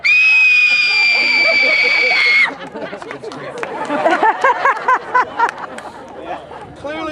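Children scream long and loud as a princess in a told story, one sustained high shriek for over two seconds, then breaking into scattered shouts, laughter and excited crowd chatter.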